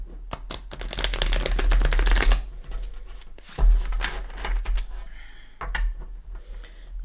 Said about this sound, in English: Let's go ahead and give the Light Seers a shuffle or two.